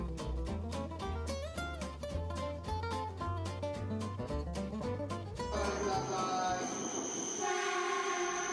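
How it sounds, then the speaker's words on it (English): A green H5 series Shinkansen bullet train rumbles in with a rhythmic clatter of wheels, then a high electric whine and hiss as it slows to a stop nearby. "Here's our train, a beautiful green H5 series Shinkansen certified to run in Hokkaido."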